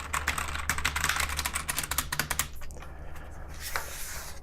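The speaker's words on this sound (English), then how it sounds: "Now that's a sound for the brown switch." Fingers type on a Gamedias Hermes P1 RGB mechanical gaming keyboard with brown switches. Rapid, close clacking keystrokes come first, then thin out into scattered individual presses, with no speech.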